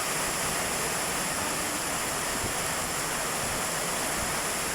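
Dense, continuous hiss of heavy rain with wind pouring down, loud and unbroken with a gusty rushing texture, no thunder.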